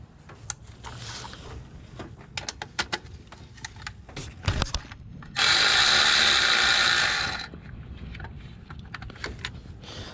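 Electric ratchet whirring in bursts as it backs out carburetor bolts on an 1988 Jeep, with scattered clicks and clanks around it and one loud sustained run of about two seconds in the middle.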